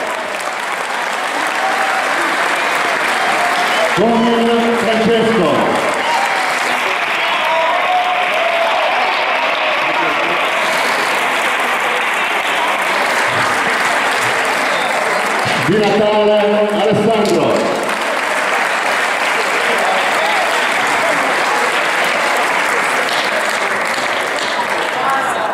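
Audience at a national championship in Rimini applauds steadily and loudly throughout, a dense wash of clapping with a voice over a loudspeaker announcing names twice over it.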